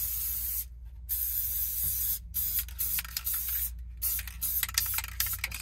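A can of spray adhesive hisses loudly and continuously up close inside a van, interrupted by a few brief pauses between bursts.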